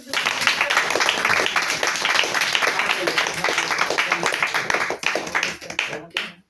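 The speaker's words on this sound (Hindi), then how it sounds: "प्रभु यीशु के नाम, जोरदार ताली के लिए।" A church congregation at a Hindi Christian satsang claps loudly in praise, a dense, sustained wash of hands that runs several seconds before thinning and stopping, with voices mixed underneath.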